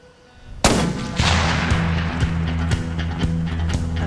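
Gunshots ring out close and loud: one sharp blast, then a second heavier report followed by a run of rhythmic repeated shots over a low rumbling background.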